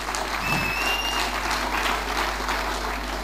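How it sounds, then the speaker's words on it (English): Church congregation claps during a testimony service, a steady, moderately faint patter of applause over a low hum with a few voices mixed in. "Come on, somebody clap hands for Jesus."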